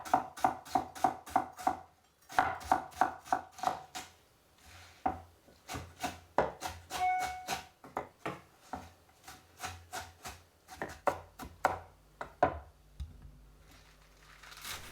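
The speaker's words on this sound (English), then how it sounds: "Chop the Chinese cabbage, or you can use regular cabbage if you want." Chinese cabbage being chopped with a knife on a board, quick close rhythmic chops in bursts with brief pauses between runs.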